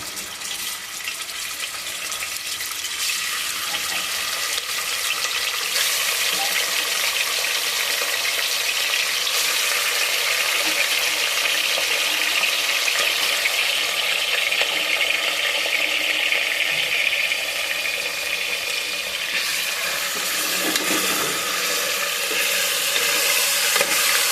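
Chicken pieces deep frying in hot oil for a spicy chicken curry, a steady, dense sizzle and bubbling that runs loud and close throughout with no voices over it.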